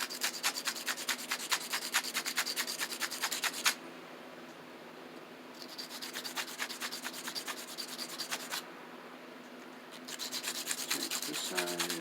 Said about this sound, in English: going to take the sandpaper and just get where we're going to be soldering to, kind of roughed up a little bit